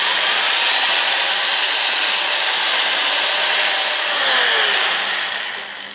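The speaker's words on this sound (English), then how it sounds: "I'm going to sand it in reverse, and if I increase the RPMs a little bit, I've got about 500" Sandpaper presses against a spinning winged plum crotch hollow form on a wood lathe running in reverse at about 500 RPM. It makes a loud, continuous, even abrasive hiss that tapers off slightly at the end.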